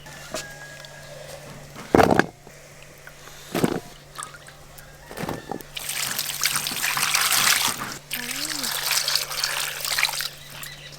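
Cut unripe jackfruit pieces washed in water, with splashing and trickling, several sharp knocks of pieces against a container, and a louder stretch of sloshing water near the end, close by.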